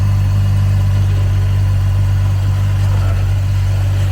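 A vehicle fitted with homemade snow tracks drives along, its engine producing a loud, steady, close low hum with no pauses.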